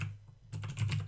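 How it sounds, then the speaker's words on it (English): Computer keys clatter in a quick, close burst of typing during a Minecraft Education session, after a brief quiet moment. "And then I'm going to type"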